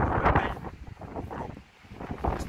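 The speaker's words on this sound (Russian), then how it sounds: "На улице какой-то ураган, периодически идет дождь, то снег, то град, хотя тепло." Strong gusty wind buffets the microphone outdoors in a garden during stormy weather with rain, snow and hail, roaring in uneven surges that swell and fade across the whole clip.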